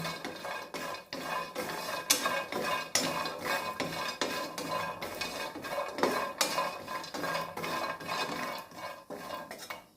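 Steady clinking and scraping of a utensil against a pan as nuts are dry-roasted, continuous stirring with a faint sizzle underneath, close by and without any talking.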